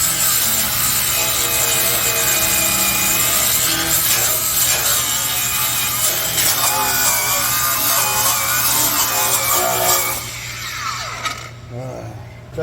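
A Bosch GWS 18V-180 PC 7-inch cordless angle grinder cuts through welded seams on steel, a loud continuous abrasive whine and grinding rasp that holds steady for about ten seconds, then drops away as the cut finishes.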